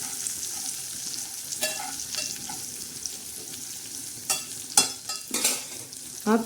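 A spoon scrapes and stirs a ridge gourd and moth bean dal dish in a frying pan over a low steady sizzle, with several louder clattering strokes toward the end.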